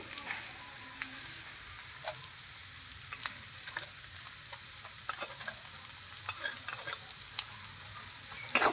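Bamboo shoots with cumin, ginger and garlic paste sizzle softly in a pan while being stirred, a low steady hiss broken by light scraping and clicking taps of the spoon, no voices.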